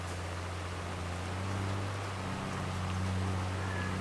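Rain falls in the farming video game Farming Simulator 22 as a continuous, even wash of soft hiss over a low steady hum, with no pauses or talk.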